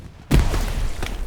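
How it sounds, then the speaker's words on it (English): Grenade blast inside a house in the Hell Let Loose war game: one sudden heavy thud at the start, followed by a loud, rumbling, noisy decay lasting about a second. "Dr. Medic does toss a nade into the house"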